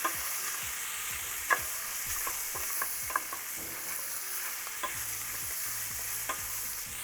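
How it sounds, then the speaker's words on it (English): Bacon frying in a pan, a steady bright sizzle running throughout with occasional soft scrapes and taps of stirring, close and fairly quiet. "make sure you check on your bacon so it doesn't burn. And give it a nice stir."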